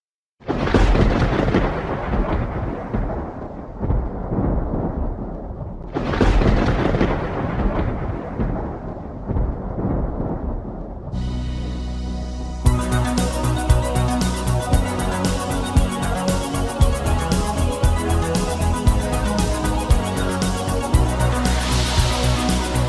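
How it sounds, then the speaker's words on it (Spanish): A thunderstorm and whirling wind sound effect played from a Tyros keyboard's multipad: two loud, rolling thunderclaps crash and rumble away, followed by a dense, swirling gust of wind noise that roars steadily to the end. "podríamos añadir el sonido de una tormenta y un efecto de remolino de viento"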